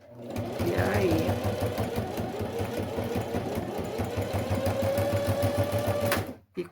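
A sewing machine stitches a necessaire box with a fast, even mechanical chatter that runs continuously for several seconds while someone talks over it, then halts.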